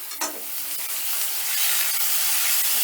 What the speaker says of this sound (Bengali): এবার পেঁয়াজটাকেও হালকা লাল করে ভেজে নেব